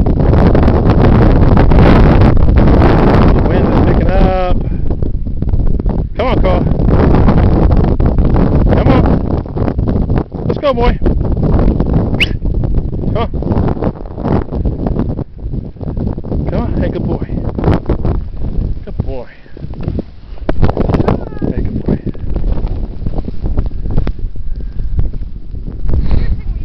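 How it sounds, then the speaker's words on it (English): Strong wind blows through a snow blizzard in Bristow, Virginia, roaring and buffeting the microphone in loud, gusty waves that rise and ease throughout. "The wind is picking up."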